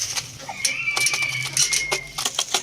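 Free-range desi hens clucking in short bursts close by at feeding time, with scattered chirps and a steady high whine running through the background.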